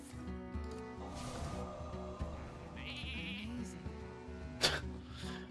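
A Hearthstone warrior polymorphed into a sheep gives short game bleats amid layered game music and effects, with a sharp chime near the end.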